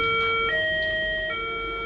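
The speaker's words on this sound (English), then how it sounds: "the lockdown siren went off" A school lockdown siren sounds as steady electronic tones that shift pitch partway through, loud and continuous for about two seconds with no speech.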